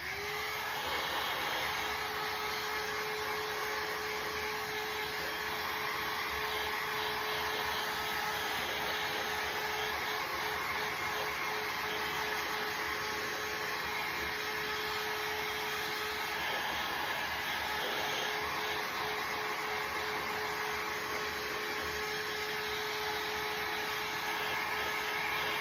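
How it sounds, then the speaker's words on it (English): A hair dryer blows at a steady, constant roar for about twenty-five seconds, drying a reverse decoupage glass piece close by, with no talking. "Now we're going to give it a dry."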